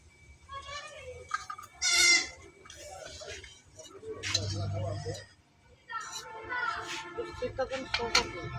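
A goat kid bleats a few times in short, nasal calls at close range, with people talking and pots clinking nearby.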